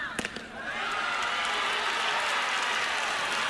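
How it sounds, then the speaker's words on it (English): A softball crowd erupts into sustained cheering and applause after a bases-loaded walk in a close Arizona Wildcats vs LSU Tigers game; a few claps precede a loud, steady roar that holds to the end. "We will let the crowd tell you what happened."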